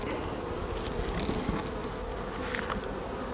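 Honeybees buzzing steadily around an opened hive during a hive inspection, a dense close hum with individual bees passing near, no voices.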